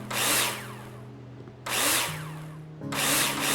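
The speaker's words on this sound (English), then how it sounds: "Take your drill out and screw it in." A power drill in the Builder Simulator game drives screws into plasterboard in three loud whirring bursts, each rising then winding down, with quieter pauses between them.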